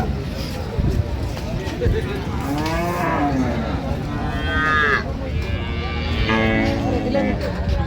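A cow moos several times, long drawn-out calls rising over a noisy outdoor crowd at a cattle market in Raniganj, Dinajpur, with people talking throughout.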